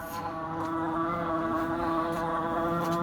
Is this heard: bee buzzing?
yes